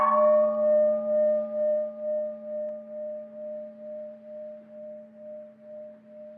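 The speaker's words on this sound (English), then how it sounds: "If you, for example, simply listen to the gong," A single gong stroke rings out and decays slowly, its steady, shimmering tone pulsing gently as it fades over several seconds.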